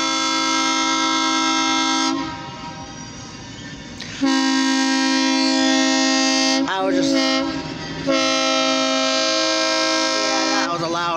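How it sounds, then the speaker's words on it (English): A loud, sustained freight train horn blares in long blasts with brief gaps near East Titusville, Pennsylvania, while a voice speaks briefly underneath. "Yeah, that was a loud horn, yeah."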